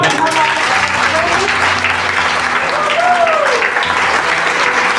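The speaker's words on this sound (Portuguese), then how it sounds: "Vou bater palmas para Jesus." Sustained, dense clapping from a congregation at a Sunday church service in Maputo, loud and close throughout, with a few voices calling out over the applause.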